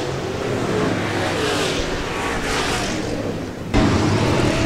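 Stock cars battle through a heat race at Rapid Speedway, a dense, steady roar of several engines filling the track with a sudden louder surge near the end, no talk over it.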